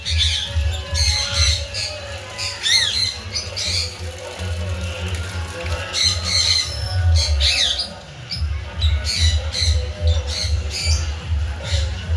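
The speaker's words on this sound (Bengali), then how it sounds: "এই পার্কে অনেকগুলো পাখির খাঁচা আছে নানা রকম প্রজাতির এখানে পাখি আছে রং বেরঙের" Loud, repeated squawks from many birds in a park aviary, overlapping and nearly constant, with a busy outdoor murmur underneath.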